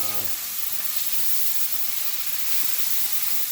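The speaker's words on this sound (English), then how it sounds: "I'm just going to saute these a little bit and kind of let them caramelize." Cheese tortellini sautéing in a pan hiss with a steady, bright, continuous sizzle, close and even throughout, with a brief low sound at the very start.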